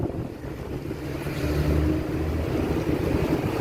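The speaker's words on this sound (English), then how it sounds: "sorry, I got another loud truck." A loud vehicle rumbles past nearby, its low engine drone swelling midway and lingering, with a windy, roaring background and no talking.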